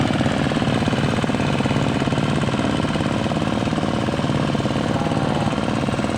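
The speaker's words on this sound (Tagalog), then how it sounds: "so ayun yung dalawang makina ko" Engines drone on without a break, a dense mechanical rumble with a fast knocking pulse filling the space, loud and nearby, no voices.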